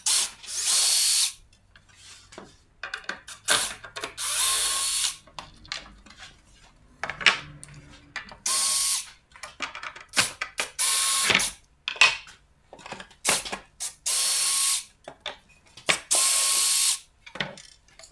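Screws being driven with a power drill into a wooden stagecoach seat at the seat back bevels, repeated loud whirring bursts of a few seconds each, separated by short pauses and light clicks, with no talking.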